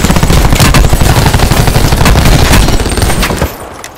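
Rapid automatic gunfire in the Call of Duty video game, a loud continuous burst of dense shots that runs for several seconds before cutting off abruptly near the end.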